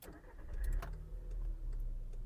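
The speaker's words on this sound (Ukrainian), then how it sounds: "Двигун запускається чудово." A Skoda Octavia 1.6 MPI engine cranks briefly and catches, then settles into a low steady idle close by.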